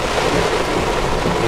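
Heavy monsoon rain pours down while a car drives through Phuket, a loud, dense, steady roar of rain with low rumbling underneath, continuous and close with no speech.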